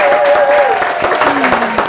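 A talk-show studio audience applauds loudly to welcome a singer, close, dense clapping with voices cheering and calling out over it.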